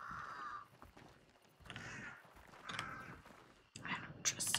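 Crows caw in the Hunt: Showdown video game, a few harsh calls at mid distance, with quiet game ambience and clicks between them.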